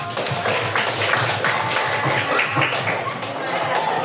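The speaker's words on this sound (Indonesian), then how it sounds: "oke, beri tepuk tangan dong." Classroom applause from students after a group presentation on making mango juice, a dense, steady patter of many hands clapping at close range for about four seconds, with some chatter mixed in.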